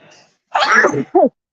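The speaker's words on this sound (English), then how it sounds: "I feel a sneeze coming on." A single loud, close sneeze bursts out after a soft breathy intake, followed by a brief voiced tail.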